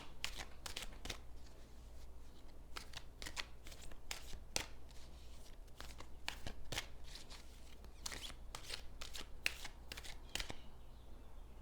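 A deck of cards is shuffled for a tarot-style reading, a run of crisp riffling bursts and snaps repeating at irregular intervals, close and clear over a low steady hum, with no voices.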